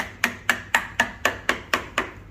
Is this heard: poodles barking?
no